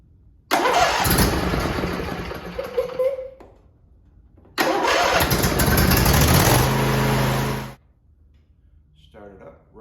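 Husqvarna/Ariens lawn tractor gas engine starting up twice, each time a loud close cranking roar that settles into running before cutting off, with a voice briefly at the end.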